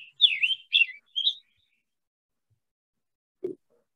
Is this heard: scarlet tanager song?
yes